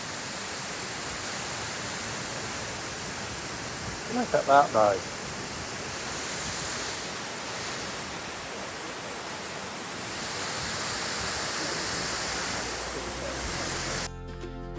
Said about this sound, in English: Well, I found the waterfall.